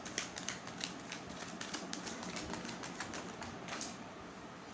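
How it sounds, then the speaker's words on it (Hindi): Tarot cards flip and fall in quick succession, a run of faint crisp flicks and paper slaps, close up over low background hiss. "कार्ड्स फ्लिप हो के गिर रहे हैं।"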